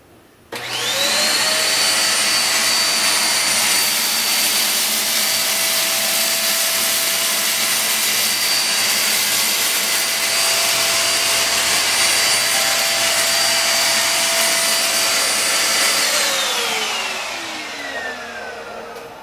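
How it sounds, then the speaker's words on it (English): A Pooda D9 vacuum cleaner powers up and runs steadily on a low pile rug with a loud, high whine, then winds down at the end; no talking. "This is thin, a low pile rug, so this will mimic what to expect from this vacuum"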